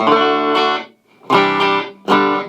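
A dry electric guitar with mild distortion plays through a Blackstar amp head and cab without reverb, three strummed chords ringing briefly and cutting off cleanly between them.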